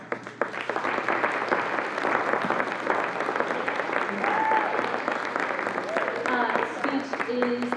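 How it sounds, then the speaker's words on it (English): Audience applauding at a school honors night, a dense, steady wash of clapping from a large crowd lasting throughout, with faint voices and brief tonal sounds rising through it near the end. "So I think these ladies deserve a huge round of applause."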